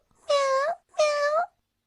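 Cartoon cat gives two clear, separate meows in quick succession, close and alone, each a drawn-out tonal cry.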